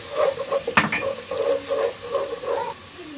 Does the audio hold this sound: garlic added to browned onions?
yes